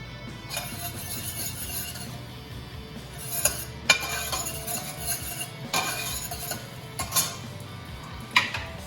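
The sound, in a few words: stirring garlic in avocado oil in a pan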